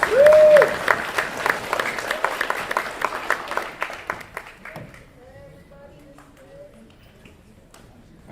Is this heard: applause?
yes